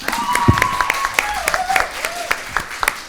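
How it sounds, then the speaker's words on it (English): An audience at a student presidential election debate gives a round of applause, with scattered sharp claps running throughout and a voice speaking over it. "Can we give a round of applause?"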